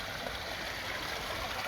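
A rebuilt garden koi pond waterfall flows in a steady, even rush of splashing water, close and continuous with no voices.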